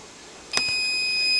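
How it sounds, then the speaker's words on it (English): A kitchen timer goes off with a sharp electronic beep, then holds a thin steady tone, set for a 15-minute simmer. "There's my timer. It's 15 minutes."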